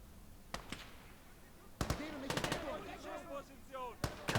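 Gunfire in the Gates of Hell World War II strategy game set at the Battle of Moscow: scattered sharp shots ring out, some in quick bursts, at moderate distance while someone talks throughout.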